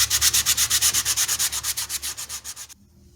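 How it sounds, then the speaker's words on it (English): Sandpaper rubs hard over a small piece of cardboard from a cat litter box in a fast, steady back-and-forth rhythm, about twenty close, loud strokes, then stops abruptly. "flip over that smaller piece of cardboard and sand the ever-loving crap out of it"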